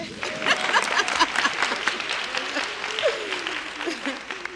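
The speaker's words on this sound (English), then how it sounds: "That's the clap time." Audience clapping at a scholarship and awards program, steady applause across the whole clip with voices and cheers rising over it.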